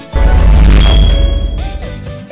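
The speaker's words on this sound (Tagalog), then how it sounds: "click na rin sa bell button" A notification bell sound effect for a subscribe button: a loud struck impact followed by a bright, sustained metallic ding that rings out, with a few quick chime-like tones near the end and no speech.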